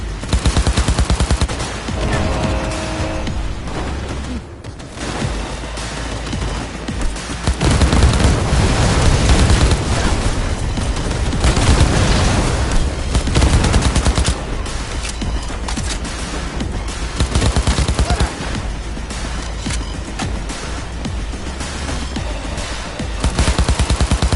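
Dense video-game gunfire, continuous rattling shots and booms layered with loud game sound throughout, with no clear voices.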